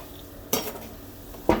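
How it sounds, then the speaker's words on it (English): Chicken noodle soup being made in a pot on the stove, with two sharp clatters as vegetables and a utensil hit the pot about a second apart, close by and with no talking. "I'm going to go ahead and add my vegetables."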